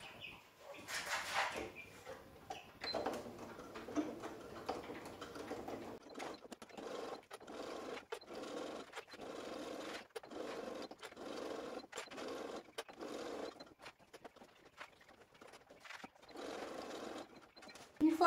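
A domestic sewing machine stitches a zipper onto a large sports or travel bag in quiet, rapid bursts of mechanical chatter separated by brief pauses, fairly close and soft throughout.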